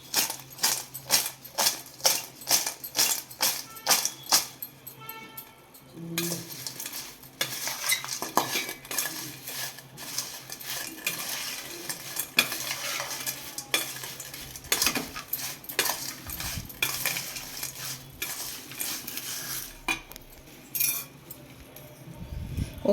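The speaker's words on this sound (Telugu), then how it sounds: "ఇవన్నీ ఇలా టాస్ చేసుకుంటూ కలుపుకోవాలి మొత్తం." A spoon stirs and tosses a potato fry with salt, coriander powder and garam masala in a pan. Sharp repeated metal scrapes and clinks sound close, over a soft background sizzle, with no talk.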